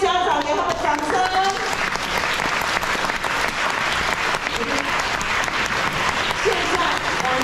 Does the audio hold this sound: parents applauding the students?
yes